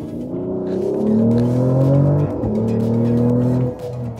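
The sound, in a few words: Mercedes-AMG GLE 53 Hybrid engine sound while driving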